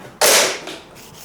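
A hand rubs over rough, sandpaper-like paint on a Toyota Crown JZS171. It makes one sharp, loud, close scraping swipe that quickly trails off into quieter brushing.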